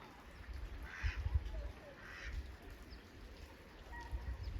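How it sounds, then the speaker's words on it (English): A wild mallard duck on Penitencia Creek gives a few soft, brief quacks, spaced about a second apart, over a quiet low outdoor rumble. "mallard is actually found now on all continents"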